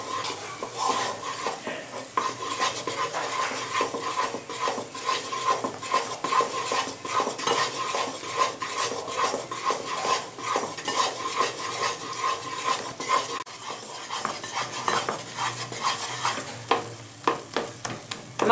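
Milk powder sandesh mixture stirred in a pan, with a steady scraping rhythm of spoon on metal over a soft continuous sizzle, close and moderately quiet, no voices.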